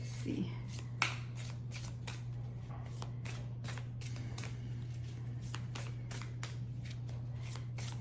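Tarot cards are shuffled in a series of quick, close riffling bursts that repeat at a fairly even rhythm over a low steady hum.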